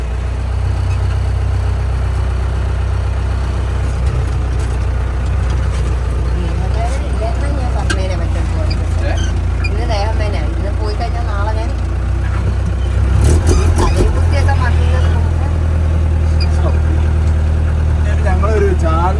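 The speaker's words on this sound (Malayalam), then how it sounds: "ഈ കാണുന്നത് ഭയങ്കര പഴക്കമുള്ളൊരു ജീപ്പാണ് കേട്ടോ" A very old jeep with a broken silencer rumbles loudly and continuously on a rough rural road in Wayanad, growing harsher as it revs near the end, while people talk over the engine.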